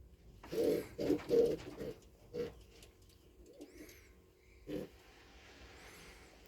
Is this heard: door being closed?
no